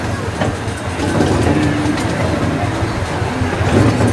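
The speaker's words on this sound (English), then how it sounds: "Locomotive hauling our train today," A one-third scale miniature steam locomotive of the Thorny type hauls a park train, giving a steady rumbling roll with faint clickety-clack over the rails throughout, fairly close and continuous.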